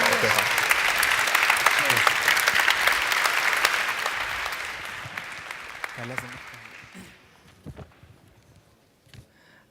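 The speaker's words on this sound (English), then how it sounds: "Could I please have a very, very warm applause for Hamza, Allah, and Ahmed?" Warm audience applause for three Syrian guests at a conference talk session, a dense wash of clapping that holds steady for about seven seconds, then thins into scattered claps and fades out.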